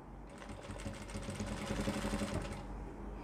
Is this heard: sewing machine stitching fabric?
yes